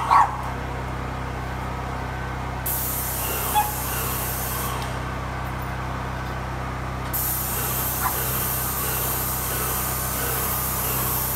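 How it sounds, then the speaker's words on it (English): A dog shut outside a shipping container gives a few distant, spaced barks, nearly buried under the loud, steady hiss of paint spraying inside. "barking because he's outside and wants to be inside"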